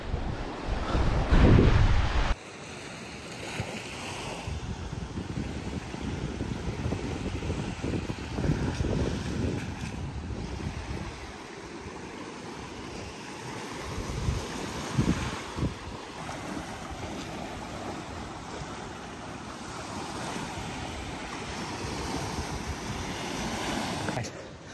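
Surf rolls steadily onto Ritidian Beach in Yigo, Guam, a continuous wash of waves mixed with strong wind buffeting the microphone, with no talking.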